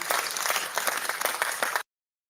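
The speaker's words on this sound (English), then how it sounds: "All right, we'll give them a round of applause." A round of applause from an audience at a startup idea presentation session, dense and steady clapping from many hands that cuts off abruptly after nearly two seconds.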